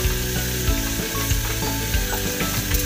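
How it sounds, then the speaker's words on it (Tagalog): Chopped garlic fries in hot oil until golden brown for chicken arroz caldo, a dense continuous sizzle close to the pan with occasional stirring scrapes and no talking. "Lagay na natin ang ating bawang. Golden brown lang natin guys"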